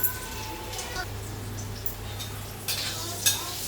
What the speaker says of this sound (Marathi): आता मी ह्या वड्या तळत आहे